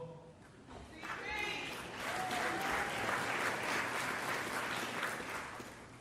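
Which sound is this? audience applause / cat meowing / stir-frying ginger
audience applause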